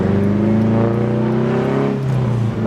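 A turbocharged 500 hp Honda S2000 engine drones loud and close, its deep, steady note rising and easing slightly in pitch as the revs shift, with no talking.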